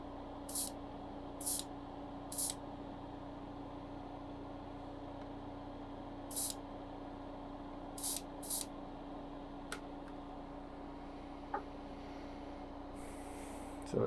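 Short bursts from an airbrush spraying a base coat of paint, about six brief hissing puffs spaced irregularly over a faint steady hum, plus a few small clicks.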